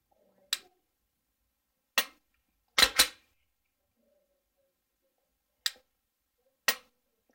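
Dry-fire practice with an unloaded pistol gives six sharp, isolated trigger clicks, spaced irregularly over about seven seconds in near silence. Two of the clicks come in a quick pair.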